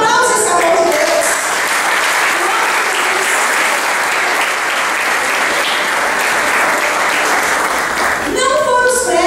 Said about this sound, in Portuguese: Dê um aplauso a esse amor de Deus.